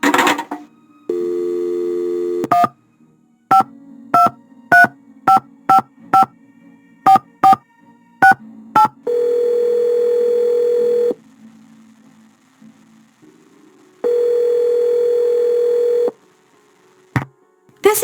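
Telephone in the Nancy Drew game Secrets Can Kill: a dial tone, then a rapid run of about a dozen keypad tones, then steady ringback bursts, loud and clear without talk.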